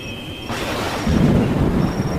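Heavy rain and rolling thunder form a spooky backdrop in a Hindi horror story, with a dense, steady downpour and a deep rumble that swells partway through, loud and continuous with no voice over it.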